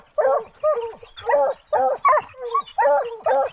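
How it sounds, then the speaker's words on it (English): Hunting dogs treeing a bobcat in thick woods bark in a steady rhythmic series of loud, close, excited barks and yips, about eight bursts in quick succession. "Old Doc still treeing."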